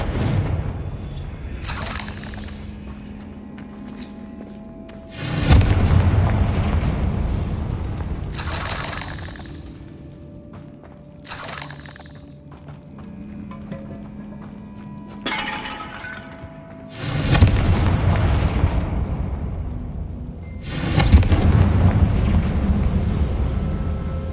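Confringo fire spells explode in the Hogwarts Legacy video game, several loud booming, crackling blasts spaced a few seconds apart, with quieter game ambience between them.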